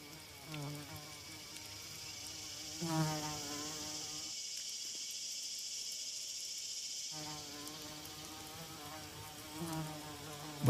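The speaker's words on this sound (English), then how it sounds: "Orchid bees." A dense, droning buzz of many orchid bees hovering close by, swelling and fading, with a short lull midway before the buzzing resumes.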